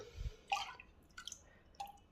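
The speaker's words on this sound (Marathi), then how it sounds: "आपण गिलासानं पाणी काढायचं" A few soft, quiet splashes and drips of water, spaced irregularly, as water is scooped with a glass from a can to fill a bottle.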